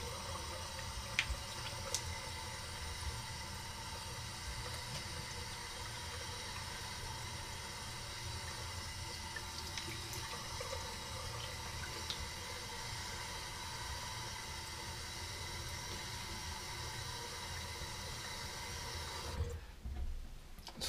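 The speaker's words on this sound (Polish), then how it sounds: "Więc teraz zimna woda," Icy cold tap water running steadily into a sink during a wet shave, a constant hissing stream that stops abruptly near the end.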